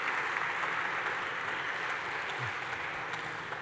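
Sustained audience applause for five startup companies after their pitches at a tech conference main stage, steady broadband clapping throughout with a faint voice briefly underneath.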